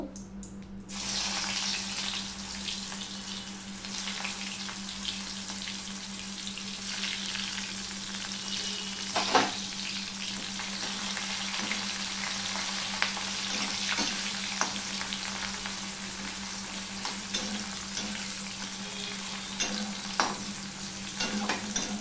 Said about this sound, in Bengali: প্রথমে আমি পেঁয়াজটা দেব